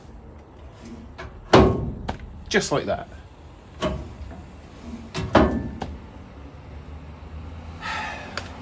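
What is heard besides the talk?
glove box door closing on a 1936 Chevy Coupe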